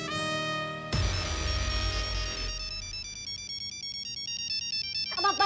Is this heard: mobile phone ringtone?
yes